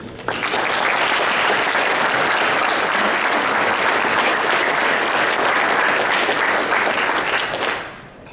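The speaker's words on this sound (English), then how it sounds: "I'd like to give a big round of applause for the Beta Club members" At the Pickens County, Georgia STAR Banquet in 2022, a crowd applauds the Beta Club members with strong, continuous clapping that holds steady for roughly seven seconds and then drops away quickly.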